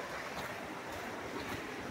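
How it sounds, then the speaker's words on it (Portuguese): A small ranch waterfall swollen by rain gives a steady, close rushing roar of falling water, continuous and even throughout with no voices. "Mas ela não deixa de ser uma pequena cachoeira."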